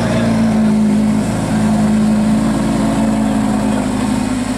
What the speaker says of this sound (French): Là, on a une Huracan 580 qui part du rassemblement.